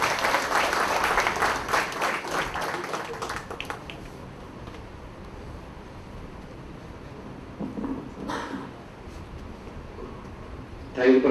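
An audience at a Delhi University event bursts into loud applause welcoming a speaker to the stage, strong at first and then thinning into scattered claps and background murmur, with a voice briefly audible.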